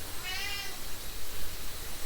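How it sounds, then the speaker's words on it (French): A cat meows once, a short harmonic call near the start, moderately close, over a steady background hiss. "Il vous a manqué, il revient, c'est le chat."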